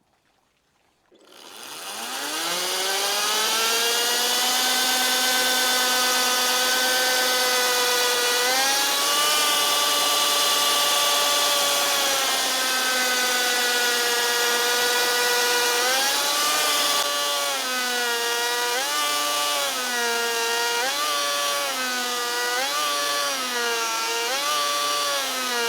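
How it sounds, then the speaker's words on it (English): A chain mortiser, a chainsaw-like power tool, spins up and runs for a long stretch while cutting mortises into oak beams for a gazebo frame. It makes a loud, steady motor whine whose pitch sags and recovers under load. "It's kind of a cross between a router and a chainsaw, and it does one job, and that's dig mortises very quickly, very efficiently, and very accurately."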